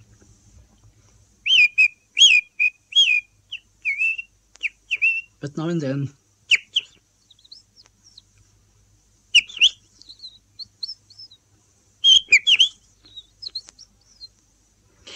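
A man whistles an imitation of a song thrush, giving short repeated bright phrases and trills in bursts separated by pauses, with one brief low voiced warble in the middle.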